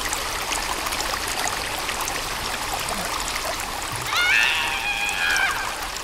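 Flowing water in the Sons of the Forest video game, a steady rushing stream that stays constant and fairly loud throughout, with a brief chirping tone near the end.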